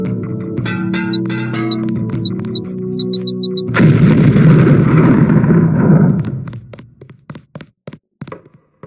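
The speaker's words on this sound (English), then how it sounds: "If you aren't close enough, the lamp will fall to the ground and detonate." A LAM grenade detonating in the Deus Ex video game during demolitions training: a sudden loud blast cuts in after a steady electronic hum with beeps, roars for a few seconds, then decays into a string of fading thumps and debris clatter.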